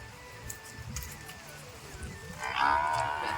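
Two buffaloes bellow at an early-morning milking place. Several long, low moans overlap, one swelling louder near the end, with faint background noise.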